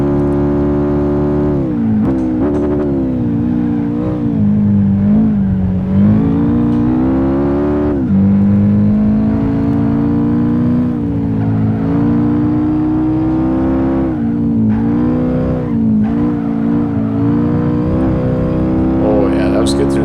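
A Honda Civic race car in Gran Turismo 5 drones loudly through a race, engine pitch rising and falling with gear shifts and revs, while a person talks over it much of the time.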